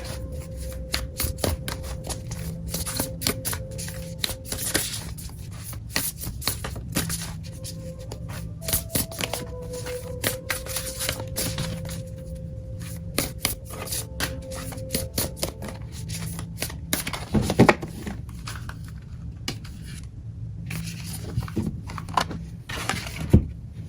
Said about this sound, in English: All right, Beth, let's take an opening card